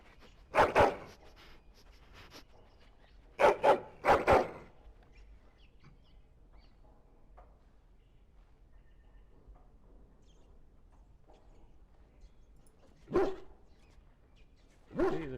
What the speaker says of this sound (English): He's a clever dog.